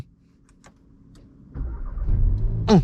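A 2021 Audi TT 45 TFSI Quattro S-Line starts after a few quiet clicks, its engine catching and settling into a loud, close idle that ends with a sharp electronic chirp.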